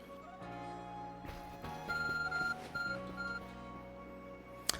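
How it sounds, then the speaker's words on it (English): The ARC phone in the video game Pokemon Legends Arceus beeps in a few short, high electronic chirps over a soft, sustained musical background, ending in a sharp click, with no speech. "Your ARC phone is beeping."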